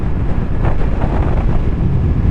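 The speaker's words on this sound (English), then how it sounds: "It is so windy. What's going on with the weather? It is crazy windy." Heavy, steady wind roar buffets the microphone while riding a Honda VFR800FE motorcycle, a dense low rumble with no voices.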